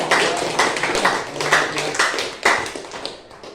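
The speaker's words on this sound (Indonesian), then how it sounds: "beri tepuk tangan dulu untuk kelompok satu" A classroom of students claps for a group after its presentation, dense overlapping hand claps filling the room with a few sharper taps standing out, steady throughout.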